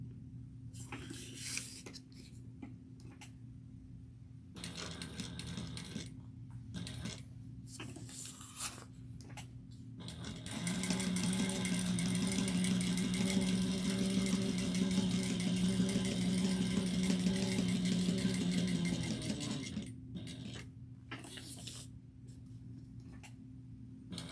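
A sewing machine stitches a crossbody bag along drawn lines, a steady mechanical whir running for several seconds in the middle, with quieter handling and pauses before and after.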